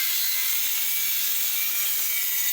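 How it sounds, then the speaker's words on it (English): A circular saw cuts through a kitchen countertop to make a sink opening, a steady, close, high-pitched rasping whine that holds without a break. "I prefer to use a circle saw."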